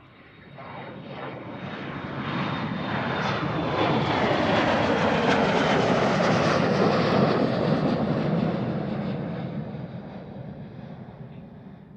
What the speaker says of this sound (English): The flight to Exeter, the Embraer E175,